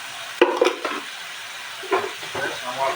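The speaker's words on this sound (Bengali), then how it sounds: "এগুলো দিয়ে ভেজে নেব" Spices fry in a pan for a fish and green banana curry, with a few sharp scraping stirs of a spoon over a soft, steady sizzle, close and fairly quiet.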